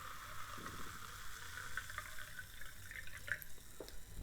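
Blackberry lemonade sparkling water pours from a cold can into a glass, fizzing and crackling with small bubbly pops, close and quiet.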